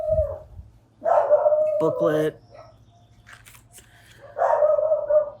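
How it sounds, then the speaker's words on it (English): Dogs bark and yelp in short bursts at a moderate distance, interrupted by a brief spoken word and quiet gaps. "you'll have to excuse the dogs. They're going a little bit crazy right now."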